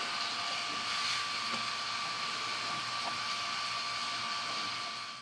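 Steady whirring drone of an AC vacuum pump running on a fifth-generation Camaro SS, close and even for the whole stretch with no talk over it.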